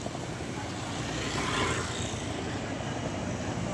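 Continuous traffic rumble from auto-rickshaws and motorbikes on a busy street, a steady engine drone with one vehicle swelling slightly closer midway, no talk over it.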